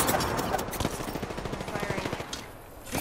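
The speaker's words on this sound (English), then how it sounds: "I am taking fire, friend." Sustained automatic gunfire in a video game, a close, loud stream of rapid shots that runs nearly the whole time with only a brief lull near the end.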